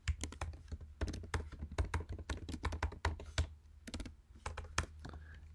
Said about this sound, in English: we can actually type up an array really fast and do it ourselves